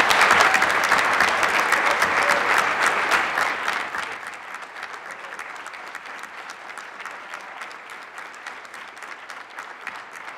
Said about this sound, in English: And if all of us can give them one big round of applause.